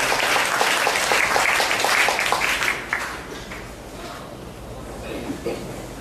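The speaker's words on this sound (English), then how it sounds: "Let's give him a hand clap." An audience at a political talk claps loudly for a few seconds, the applause fading out as a speaker's voice returns.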